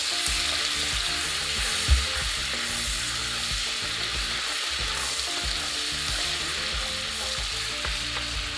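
Chopped onion sizzles steadily in a pot over low-medium heat, a continuous close frying hiss with occasional faint stirring scrapes and no talking.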